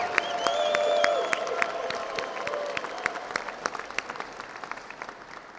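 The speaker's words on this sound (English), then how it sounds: "This guy deserves a huge round of applause." Crowd applause at a gun-rights rally, many hands clapping steadily with a few sharp nearby claps, plus a brief whistle-like tone early on.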